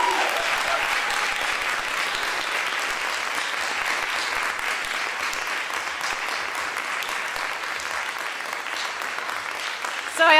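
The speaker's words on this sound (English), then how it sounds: "That was the clapping for all of the scholars" An audience at an international GIS conference committee session gives the scholars sustained, even applause that fills the room for about ten seconds.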